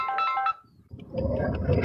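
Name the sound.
phone ringtone from incoming call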